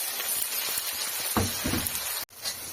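Hot sizzling and crackling close up, with a loud burst of frying as tomatoes are dropped into a hot spice tempering, then a brief cut and the sizzle continuing.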